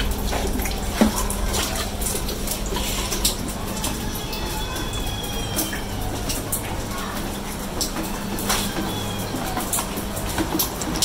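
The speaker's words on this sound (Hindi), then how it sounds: "ये देखिए बारिश हो रही है, ठंडी ठंडी हवा भी चल रही है।" Heavy monsoon rain pours steadily outdoors, mixed with running and splashing water collecting on the ground, a dense continuous wash of noise with faint bird calls and a cool breeze.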